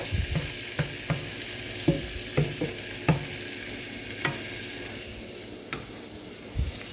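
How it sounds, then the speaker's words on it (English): Garlic sizzles in a pan with a soft, continuous frying hiss, while a spatula scrapes and taps around the pan in irregular strokes, close and fairly quiet. "All right, so garlic is in the pan. Let's take our spatula and just kind of run that around the pan like that."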